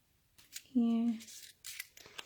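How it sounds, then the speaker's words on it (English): Scissors trim craft paper in a stamping and cardmaking session, with a couple of quick close snips around a brief bit of voice. "and I'm going to trim one. Scissors."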